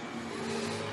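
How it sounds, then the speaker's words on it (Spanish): Traffic noise from cars and motorbikes on a street in Valencia during the Fallas festival, a steady, moderately loud engine rumble with no talk. "Perdona por el ruido de los coches y de las motos."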